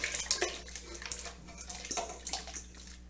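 Cold water runs from a kitchen tap into a pot, splashing and gurgling unevenly at close range with light clinks of cookware, and no talk.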